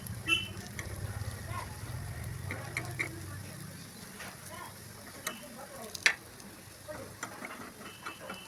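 Ripe jackfruit balls fry in oil in a covered pan, a low, quiet sizzle with occasional small clicks and taps of stirring, no talk.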